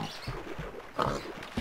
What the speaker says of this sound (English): Hey pig, I need your food.